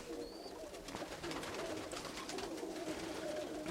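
Pigeons, among them young black birds settling in a loft, coo continuously in a busy flock, their low murmuring calls layered close together with no speech over them.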